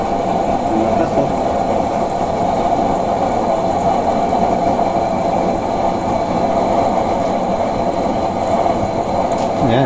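A homemade used-oil stove burner, drilled with holes, roars loudly and steadily with a dense broadband rumble that holds unchanged throughout, close by and without pause.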